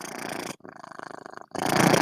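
A house cat purrs loudly right up against the microphone on a desk, a steady throbbing rumble in two long swells broken by a brief softer, rhythmic pulse between them.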